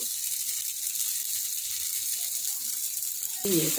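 Uttapam fries in oil on a pan, giving off a steady, soft sizzle that stays even throughout, with a brief clatter near the end.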